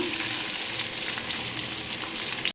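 Onions sauté in hot oil with cumin for egg Maggi, a steady close sizzle with a dense crackle that holds evenly and cuts off abruptly at the end, with no voices.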